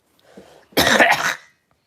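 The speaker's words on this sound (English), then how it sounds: "just have to clear my throat there" A single short, rough throat clearing, close and fairly loud, preceded by a faint breathy rumble.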